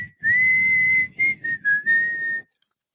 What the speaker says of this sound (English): we're having a whistling contest